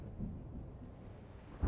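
Low rolling thunder from an approaching storm in the video game Reverse 1999, a muffled rumble that swells near the end.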